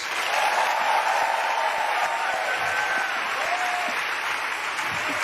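An assembly of senior high school learners claps their hands at a religious praise moment during a school talk, making a sustained, loud, even roar of clapping with faint crowd murmur and a few tonal sounds drifting through.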